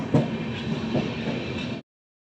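The Sampark Kranti Express rolls slowly through Mathura Junction without stopping, heard from on board as a loud, steady rumble with faint rail clacks, cutting off abruptly near the end.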